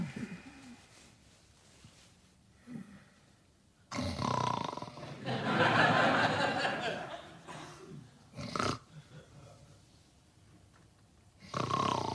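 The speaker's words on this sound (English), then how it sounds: "stop snoring" A person snoring indoors: a faint, low rasp gives way to a loud, drawn-out roaring snore several seconds long, followed by shorter grunting bursts with quiet gaps between.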